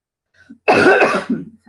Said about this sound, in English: So sorry about the cough.